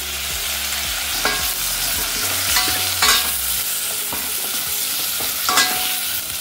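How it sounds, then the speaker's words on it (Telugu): Chopped tomatoes fry in a pan for radish sambar, a steady close sizzle broken by repeated scrapes and clinks of a spoon stirring the pan. "ఇప్పుడు ఇందులోకి 2 మీడియం సైజ్డ్ టొమాటోస్ ముక్కలుగా కట్ చేసినవి వేసుకోవాలి"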